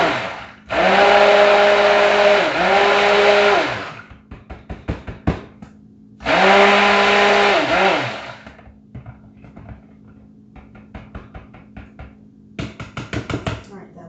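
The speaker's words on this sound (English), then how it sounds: "let's go ahead and hit that stick blender. Get it good and mixed up." A stick blender whirring through cold process soap batter in two loud, close bursts, the first about three seconds and the second about two, with light knocks and taps against the container between and after.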